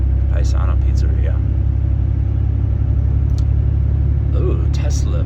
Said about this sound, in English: Ooh, Tesla box truck.